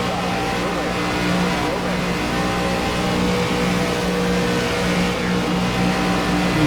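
ARCA race cars roar around Talladega in the iRacing sim, a dense, constant engine drone of a close pack at full throttle that never lets up, with a voice talking over it.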